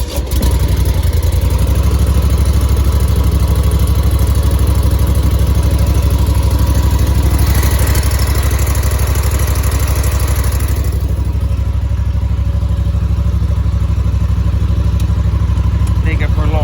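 A skid loader engine running after a choke start, idling loud and close with a steady low rumble and clatter that stays constant throughout, with a brief shift in tone partway through.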